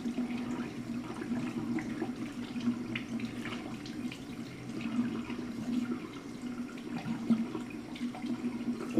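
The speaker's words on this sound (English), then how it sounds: "So I'm gonna wash my hands because it's" Tap water runs steadily into a sink while hands are washed, a continuous close splashing stream with no talking over it.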